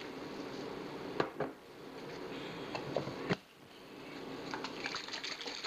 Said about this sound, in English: A tad more apple cider vinegar.